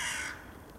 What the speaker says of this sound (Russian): А что ж вороны там делают, а?